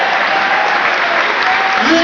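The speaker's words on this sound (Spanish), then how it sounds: "Ese aplauso es para el Señor Jesucristo." Sustained, dense applause from a church congregation fills the space evenly for a couple of seconds, with a voice rising over it just at the close.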